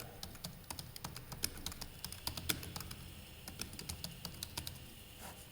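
Fingers type on a computer keyboard while entering a student database into an Excel spreadsheet, producing quick, irregular clicks and taps in steady bursts, faint and close, with no talking.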